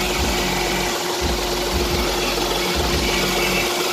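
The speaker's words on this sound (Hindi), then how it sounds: "ये उसका 3 सिलेंडर इंजन जो है काफ़ी ज़्यादा वाइब्रेशन करता है" A Maruti WagonR three-cylinder engine idles with heavy vibration from worn engine mounts, a loud, steady close-up drone with a rough, uneven low throb and mechanical clatter.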